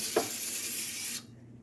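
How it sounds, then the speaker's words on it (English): A can of butter cooking spray hisses onto food during meal prep, a steady close spray lasting about a second before cutting off abruptly into quiet. "I spray both sides with this butter spray."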